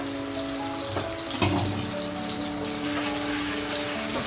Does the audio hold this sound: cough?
no